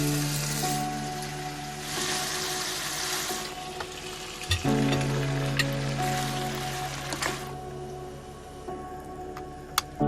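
Potatoes fry with meat and onion in fat on a camp stove beside a lake, giving a steady close sizzle with occasional stirring clicks and a low hum underneath.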